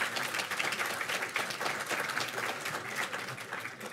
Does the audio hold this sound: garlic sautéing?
no